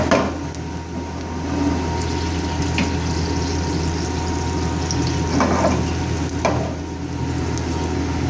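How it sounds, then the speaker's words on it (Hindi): Garlic and green chili sizzle steadily in hot oil as a tempering for Pakistani kadi pakora, a continuous frying hiss with a few soft stirring clinks and no talking. "बस मैं इन 2 चीज़ों से तड़का लगाऊंगी।"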